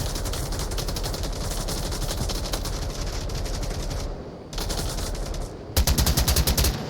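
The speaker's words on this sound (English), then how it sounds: "Few shots landing near PG." Rapid gunfire from automatic rifles in the VR shooter Onward during a competitive match, a dense, loud continuous burst that briefly drops out twice before heavier close shots punch through at the end.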